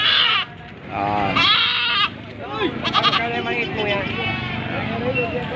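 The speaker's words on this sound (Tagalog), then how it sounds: "Ang daming kambing ngayon." A large herd of goats of mixed breeds on parade bleats repeatedly, several loud close calls overlapping, with crowd chatter and voices murmuring underneath.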